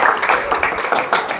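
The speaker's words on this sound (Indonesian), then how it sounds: "tepuk tangan dulu, tepuk tangan, kasih motivasi." A youth retreat audience claps in brief applause, a dense burst of close hand claps that rises and falls in a few pulses.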